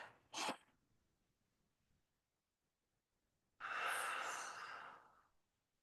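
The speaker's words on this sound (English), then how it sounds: "Take a big deep breath." A deep breath taken during a guided stillness exercise: a short sharp inhale, a pause, then a long, fairly loud exhale lasting about two seconds, close and alone.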